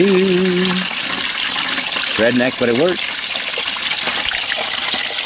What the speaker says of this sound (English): Get some rainwater to mix that all up with.